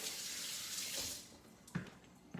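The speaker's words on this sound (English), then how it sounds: "wash my hands off" Water running from a tap while hands are washed, a steady hiss for about a second before it stops, followed by a few soft knocks and clatters.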